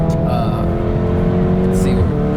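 A 382 hp VW Golf R accelerates hard, its engine note rising in a loud, sustained drone heard from inside the cabin, with someone talking over it.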